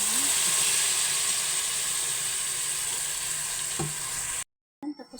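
Boiled beef sizzles and fries in a hot pan as it is stirred, giving a steady, loud, hissing crackle with a faint scrape partway through, before it cuts out abruptly near the end.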